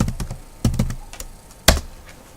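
A computer keyboard being typed on in short bursts, crisp close keystrokes in small clusters with quiet gaps between them, one sharper louder tap near the end, no voices.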